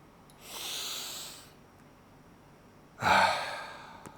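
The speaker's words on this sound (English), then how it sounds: "Let's take a deep breath together." Two deep breaths, a long soft inhale followed after a pause by a louder, rushing exhale close to the microphone.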